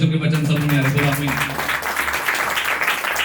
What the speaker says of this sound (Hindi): ताली बजाओ अगर परमेश्वर के वचन समझ में आ रहे तो